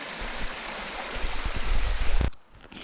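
A small creek in Michigan that flows into a river runs in a steady, close broadband wash. The sound builds slightly, then cuts off abruptly near the end.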